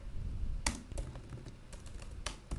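Soft, close clicks of a computer keyboard as a command is typed, several quick keystrokes tapping irregularly over a low background hum.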